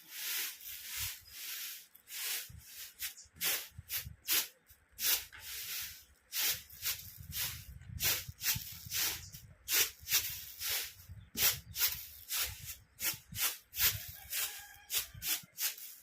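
Grain winnowed on a traditional tray, a rhythmic run of rough rustling swishes as the kernels are tossed and shaken, steady and close, continuing throughout.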